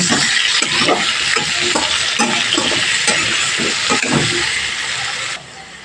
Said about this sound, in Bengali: আলুগুলো ঠিক এইভাবে ভেজে নিতে হবে